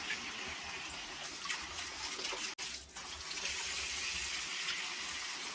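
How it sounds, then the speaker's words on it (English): Hot water runs steadily from a tap into a slow-draining sink, a continuous hiss and splash interrupted briefly by a short break before flowing again. "with some hot water to clear out your drain."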